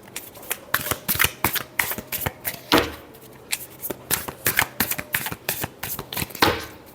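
Tarot cards are shuffled in a rapid run of crisp riffling bursts, close and fairly loud, with brief pauses between flurries and no talking.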